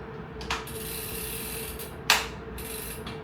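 Cycling rollers used after long disuse give off intermittent mechanical clicks and creaks over a steady whirring hum, with a sharp knock partway through.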